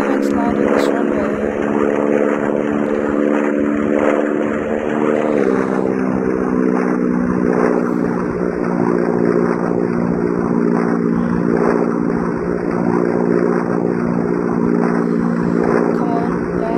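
Propeller airplane engine drones steadily throughout a flight video game set over Hawaii, a loud constant hum with a pitch shift partway as the plane approaches a runway to land.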